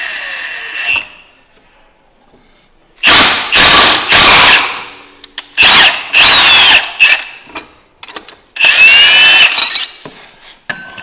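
Power tool driving a clutch puller bolt into a Polaris P22 clutch, loud close bursts of whirring and ratcheting: one long run, several shorter pulses, then a final longer run, separated by near silence.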